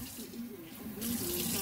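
Tap water runs steadily into a sink in a home kitchen during cooking, a close continuous splash that grows slightly louder toward the end, with no talk.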